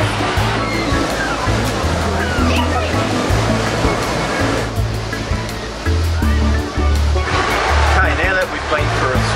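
Steady roar of waves breaking at a beach, a continuous loud wash with low rumble throughout, and a voice speaking over the surf in places.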